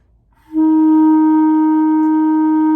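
A clarinet sounds one long sustained whole note at a steady pitch for a whole-note exercise, clear and close with no talking.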